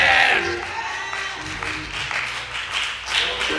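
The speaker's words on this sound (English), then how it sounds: "Clap your hand and say yes." A church congregation claps hands during a Sunday service, scattered and uneven clapping mixed with faint voices and a few calls.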